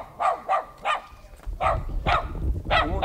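Dogs barking outdoors, sharp repeated barks in a loose irregular rhythm, fairly close and loud, with a low rumble of background noise underneath.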